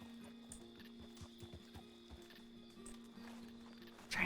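Horse hooves in the Western roleplay game RedM: faint, steady clip-clop steps close by over a low hum, ending with a louder rustle.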